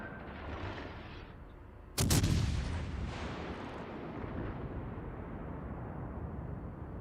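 A heavy warship naval gun salvo in World of Warships Legends: one sudden loud blast after a quieter stretch, then a long rolling rumble that trails away, with no voices heard.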